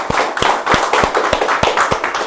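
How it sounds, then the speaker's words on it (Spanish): Church congregation clapping in applause, a run of distinct sharp rhythmic claps over a dense bed of many hands, close and fairly loud. "Denle un aplauso al Señor,"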